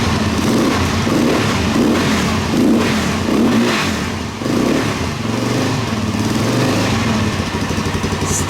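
A Yamaha YZ dirt bike engine runs close by after a suspension re-valve, revving in repeated rhythmic bursts and settling back between throttle blips, loud and unbroken.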